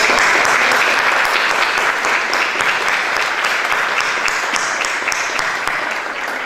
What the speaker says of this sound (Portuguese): um grande salve de palmas para cá